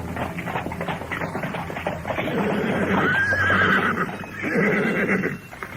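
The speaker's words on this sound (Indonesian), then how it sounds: "sebuah kereta kuda berderap di jalanan kota raja" A horse-drawn carriage moves through the streets of a royal city. The horse whinnies loudly and hooves clop unevenly on the road, with no talking.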